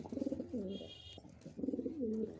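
Male Chuachandan pigeon cooing close by, two rolling coos separated by a short pause, each ending in a falling glide, alone without talk.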